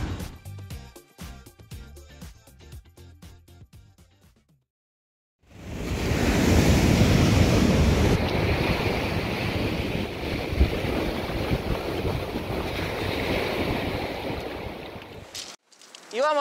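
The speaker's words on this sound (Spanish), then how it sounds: "Casi no revienta la ola acá" Ocean waves at the shore of a beach in Chile arrive as a sustained roar of surf and wind after a few seconds of clicking and near silence, then cut off abruptly near the end.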